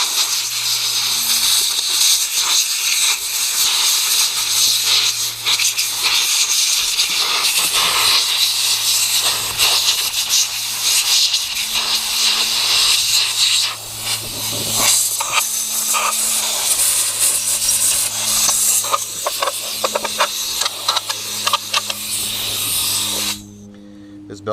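Compressed air blows mud and debris off a Can-Am G2 XMR clutch cover in a loud, continuous hiss that lasts about twenty seconds, with brief dips, then cuts off near the end.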